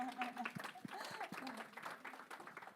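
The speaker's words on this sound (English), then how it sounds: "please clap" Scattered applause from the audience at a legal strategy session on movement organizing, fairly quiet and short, with voices talking over it.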